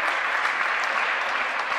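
A crowd claps steadily and loudly at a 2013 NCTTA Nationals collegiate table tennis match, a brief, even burst of applause.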